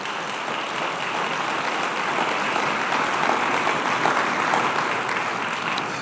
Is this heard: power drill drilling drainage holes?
no